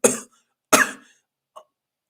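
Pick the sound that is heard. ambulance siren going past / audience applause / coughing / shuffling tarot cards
coughing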